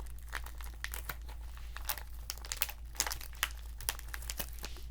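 A very thick plastic snack bag of tamarind snacks crinkled and crunched by hand, rapid irregular rustles and crackles close to the ear, soft and alone.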